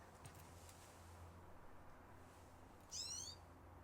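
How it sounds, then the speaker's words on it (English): A pine siskin, a small finch-like songbird, gives a brief, bright song phrase partway through, fairly faint and standing alone over a steady low outdoor hum. "It's a pine siskin. It's a little bird,"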